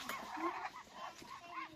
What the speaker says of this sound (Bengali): এগুলো হচ্ছে চীনা হাঁস, দেখো কেমন করে চীনা হাঁস গুলা।